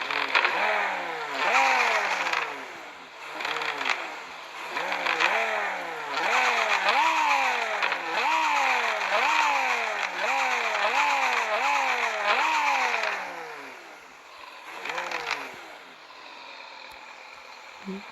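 A BMW M5 E60 engine revs repeatedly and loudly close by, each sharp climb in pitch dropping back in a steady rhythm of blips, then easing to a lower idle near the end.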